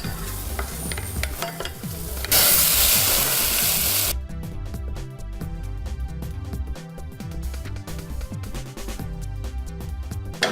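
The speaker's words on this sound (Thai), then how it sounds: "ผัดเนยนะคะใส่กระเทียมและ หัวหอมค่ะ หัวหอมใหญ่นะคะ" Garlic and onion sauté in butter in a pan, a continuous bright sizzle that swells into a loud rushing hiss for a couple of seconds, then settles under a rhythmic, music-like background.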